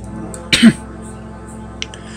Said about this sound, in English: sorry about the cough